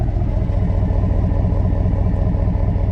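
A Dodge truck with a 5.7 engine runs steadily nearby, giving a loud, continuous low rumble with an even throb and no noticeable revving.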